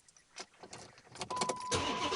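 A Dodge Charger is started: a few light clicks come first, then the starter cranks briefly and the engine catches into a steady, louder running rumble, close by with no talking.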